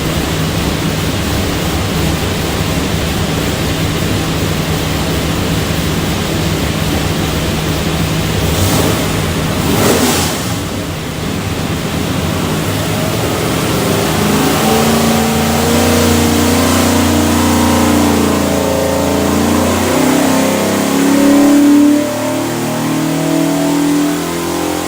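Ford 408ci V8 from a 1965 Mustang on a dyno, a loud sustained roar that climbs steadily in pitch as the engine pulls through the run, with rushing exhaust and fan noise throughout.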